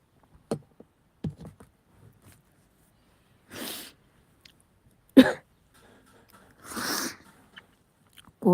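A few short, breathy coughs from someone with a cold and fever, scattered among quiet clicks and small noises, close by and fairly soft, with gaps of silence between them.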